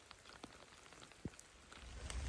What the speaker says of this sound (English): It's really rainy today